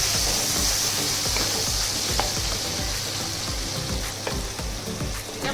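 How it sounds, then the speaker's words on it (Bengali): Mutton mince fries in hot oil in a pan, a continuous dense sizzle with occasional stirring knocks, close and steady with no talking. "এবার মটনের কিমাগুলো দিয়ে দেব, দিয়ে ভালো করে ভেজে নেব।"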